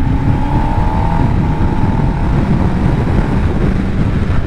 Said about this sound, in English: So the quick shifter, lovely and smooth actually.